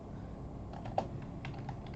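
Light keyboard typing at a computer while entering a Minecraft command: a soft run of quick key clicks with one slightly louder tap, steady and close against a faint background hiss.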